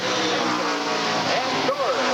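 Race cars roar on a short oval at Redwood Acres Raceway in 1988, a dense, continuous engine drone from the pack rolling through turns three and four onto the front straight, with a commentator talking over it.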